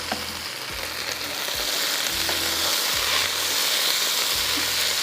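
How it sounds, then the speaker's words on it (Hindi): Potatoes fry with onions in hot oil for vegetable pulao, giving a loud, constant sizzle with periodic scraping stirs. "इसलिए मैं पहले आलू डालूँगी ताकि आलू इसके साथ थोड़ा सा फ्राई हो जाए।"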